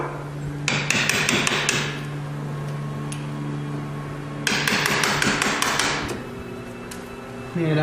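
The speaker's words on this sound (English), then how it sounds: "take your chisel and then just start cutting away at the wood" A hammer drives a chisel into a wooden door edge to cut the latch mortise for a new deadbolt. Two close clusters of sharp, rapid taps are separated by a quieter stretch with a steady hum underneath.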